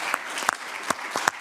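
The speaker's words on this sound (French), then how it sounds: "Merci, on peut l'applaudir." Audience applause for the mayor of Cuneo at the Nice Climate Summit 2023, a short stretch of sparse, distinct claps in a loose uneven rhythm.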